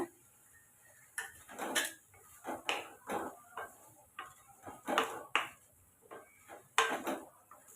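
Masala and brinjal are stirred in a pan, heard as quiet, irregular bursts of scraping and clinking from a spoon against the pan, with short gaps between strokes.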